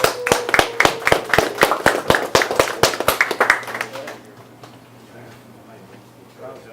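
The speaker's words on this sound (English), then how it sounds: "Clap it up" A small group claps in steady unison at a business talk, sharp and close, with the rhythmic claps fading after about four seconds into quiet room tone.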